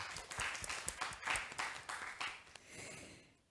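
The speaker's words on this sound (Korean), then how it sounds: "힘찬 박수로 시작합니다" Hearty audience clapping to open the high school final of a national science competition, irregular and fairly faint, with clusters of claps swelling and fading over a few seconds before dying away.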